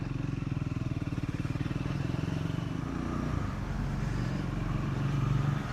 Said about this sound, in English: Just listen to that vibration of the engine or the exhaust within that small little gap.